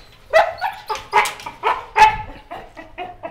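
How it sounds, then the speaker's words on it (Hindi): An American pit bull dog barks repeatedly at close range, about eight sharp barks in an irregular rhythm, some higher and yelping, with no talking over them. "अमेरिकन पिटबुल है जी, अमेरिकन पिटबुल है"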